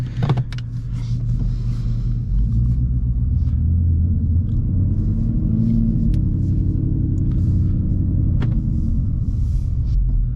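A lowered V6 Ford Mustang engine in track mode rumbles steadily up close with a deep, continuous low drone and occasional clicks and knocks from inside the cabin.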